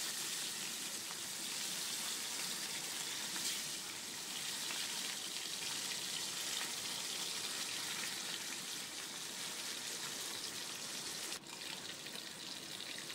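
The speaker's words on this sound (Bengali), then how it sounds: "এবার আমি মাছগুলো ভেজে নিচ্ছি।" Fish pieces for doi katla, a Bengali yogurt fish curry, fry in a pan of hot oil with a loud, steady, dense sizzle that continues unbroken throughout, with no talking.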